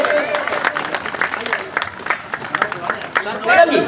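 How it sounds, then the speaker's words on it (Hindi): A village crowd at a tribal community honoring ceremony claps loudly in a sustained, uneven burst, with a voice speaking over the clapping throughout. "आइए जोरदार ताली मारिए आप इस मुसलमान भाई साहब के लिए"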